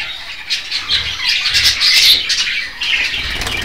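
Budgerigars in a breeding cage chatter and squawk continuously, close and lively, a dense overlapping stream of high calls with no speech.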